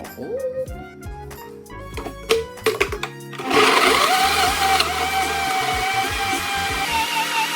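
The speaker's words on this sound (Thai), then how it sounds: "มาปั่นกันดีกว่า" A few knocks and clatters, then a countertop blender whirs on loudly and runs steadily, its motor droning as it churns a fruit smoothie.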